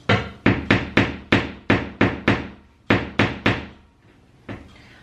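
Nail tapped into a wall with the end of a screwdriver: about a dozen sharp, close knocks in a steady rhythm, a short pause in the middle, then a softer final tap.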